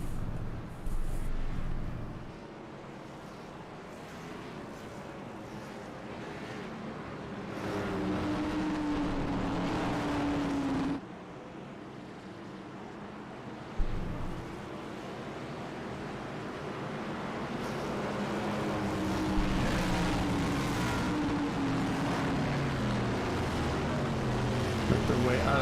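iRacing CTC Cup Series race cars circle Charlotte Motor Speedway, their engines a steady, continuous drone that swells and shifts as the field rolls past, with a commentator talking over it.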